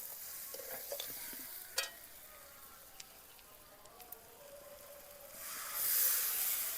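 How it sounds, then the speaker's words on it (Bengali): Drumstick vegetables stirred in a pan with fried bori, giving a steady low sizzle with a few sharp scrapes and clicks, then a louder hissing surge toward the end. "এইবার ভেজে রাখা বড়িগুলো দিয়ে দিলাম, আবারও একবার দুবার মতো নেড়ে নেব"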